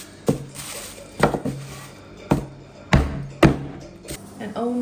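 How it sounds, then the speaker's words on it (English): An axe chops through frozen meat while sausage is being made at home: about six sharp, heavy strikes at irregular intervals, close and distinct, each with a brief ringing after-tone. "it's very effective at chopping frozen meat in half too"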